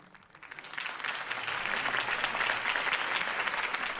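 Steady applause from a crowd at a political campaign speech in a video game builds in the first second and then holds at an even, dense clatter throughout, with no voices on top.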